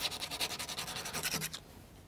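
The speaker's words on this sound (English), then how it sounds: "Sand off the tips a bit." Sanding the tips of crankshaft parts while assembling a U-9 Grand Prix model car: a quick run of close, rhythmic rubbing strokes, about a dozen short rasps, before it stops abruptly.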